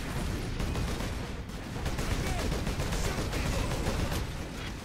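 Semi-automatic gunfire in Warhammer 40K: Space Marine, a dense, loud stream of overlapping shots and battle noise running steadily throughout with no clear gaps.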